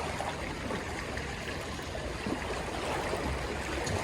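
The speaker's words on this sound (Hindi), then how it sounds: "नाव में पानी घुस रहा है, नाव डूब रही है।" Water rushes and gurgles steadily as it pours into a sinking boat on a river, rendered as a continuous, fairly soft wash of flowing water without any voices.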